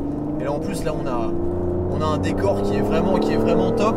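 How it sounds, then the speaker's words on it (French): An Aston Martin DBS with a twin-turbo V12 drones steadily from inside the car while driving, a constant low engine tone beneath someone talking throughout. "C'est un vrai son de V12 Aston Martin."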